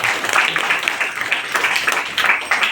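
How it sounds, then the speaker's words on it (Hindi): An audience at a talk bursts into brief, lively clapping, a close patter of many hands in uneven waves lasting a few seconds. "जोरदार ताली होना चाहिए"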